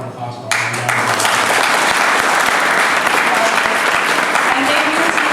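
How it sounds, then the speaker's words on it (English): Wedding guests break into loud, sustained applause after a short bit of background before it, the clapping dense and continuous across the reception hall at Jericho Terrace in New York. "Give her a round of applause for all my dad."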